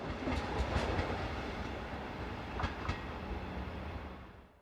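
A Class 143 train passes on the Bebra–Göttingen railway near Halle, its wheels rumbling with a few sharp clacks over rail joints before the sound fades away as it recedes.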